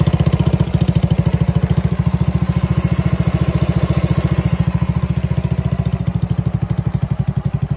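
A vintage Honda CB100 motorcycle engine runs steadily close by, its loud, even low thumping pulse holding a quick regular beat with slight mechanical clatter on top, and no voices.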